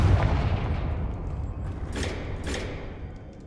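A Confringo fire spell blast in Hogwarts Legacy: a heavy rumbling boom that swells, then two brief crackling bursts as the blast fades.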